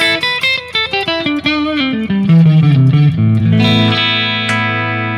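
Electric guitar through a Fender Deluxe amp model on a Sonicake Matribox 2 Pro, set to a crunch tone: a run of picked single notes descending, then sustained ringing chords, close and loud with no talk.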